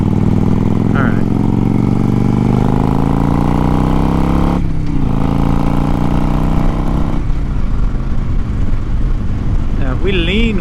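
A motorcycle engine runs loud and steady while riding through canyon switchbacks, its pitch rising as it accelerates, then dipping and shifting near the end, with a voice talking over it.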